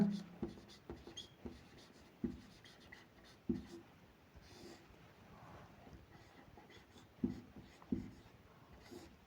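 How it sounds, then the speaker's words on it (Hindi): Pen scratching across paper while a triangle is drawn for a geometry exercise, with short strokes and taps in an irregular rhythm, close and fairly quiet. "इसके बाद लास्ट पॉइंट लिखेंगे इस प्रकार"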